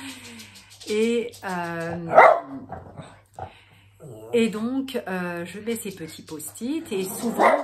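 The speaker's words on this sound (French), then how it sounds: "j'ai aussi mon chien qui aboie" A pet dog barks in a home while someone talks over a tripod-mounted phone setup; a couple of sharp barks burst out around the middle and near the end, mixed in with her continuous speech.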